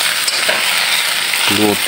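Steady crackling sizzle of banana slices frying in hot oil for banana chips, with a brief stirring scrape; a short voice-like tone rises near the end.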